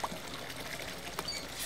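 Water runs from a bathroom tap in a steady, close, hissing flow with faint splashes, heard alone with no voices.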